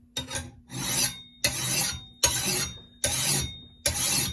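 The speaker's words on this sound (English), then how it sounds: "just a double cut bastard file. Got it in a vise." Double cut bastard file drawn across a garden hoe held in a vise, five slow rasping strokes in steady rhythm, each a coarse scrape with short gaps between, close up and alone.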